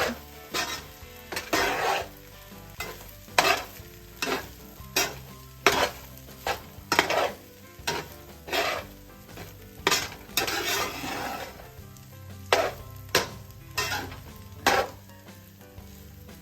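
Thai beef fried rice being stirred in a pan for four people, with a continuous sizzle broken by regular rhythmic scrapes and clanks of the utensil against the pan, close and moderately quiet.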